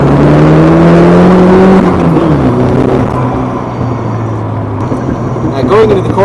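A 1987-88 Ford Thunderbird Turbo Coupe accelerates hard under turbo boost, its engine note rising steadily and then dropping with a gear change, loud from inside the car, with a voice speaking over it.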